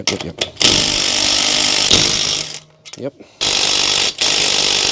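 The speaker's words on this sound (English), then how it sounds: "go get the DeWalt and see if it'll do the other side." DeWalt power tool buzzing in loud bursts as it loosens bolts on a Toyota Altezza SXE10 suspension, with short pauses between runs and a near, harsh mechanical whine.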